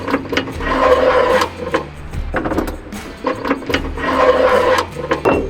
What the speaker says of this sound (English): Take your carriage bolt with a square washer on it and slide them in.